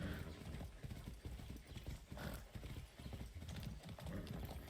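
Horse hooves gallop in Far Cry 6, a steady rapid clip-clop that runs continuously and loudly through the whole stretch, with a brief whinny and a few faint voice fragments.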